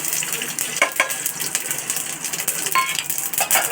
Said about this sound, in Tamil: கடுகு, உளுத்தம் பருப்பு, கடலைப்பருப்பு, முந்திரி, காஞ்ச மிளகா பொரிக்கிறதுக்கு.